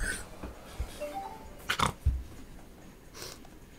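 A person imitates a pig with a few short snorting, sniffing grunts, close and fairly quiet, between soft breaths and brief noises.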